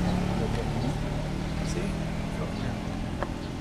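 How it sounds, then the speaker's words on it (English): A biomass gasifier's gas fan runs flat out, giving a steady, loud mechanical drone with a low hum that holds unchanged throughout, with faint voices in the background. "So now you turn the gas fan all the way up."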